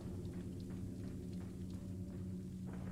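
Rain and thunder in the village of the PS2 game Resident Evil 4: a faint, continuous low rumble with a soft wash of rainfall over it, steady and distant throughout.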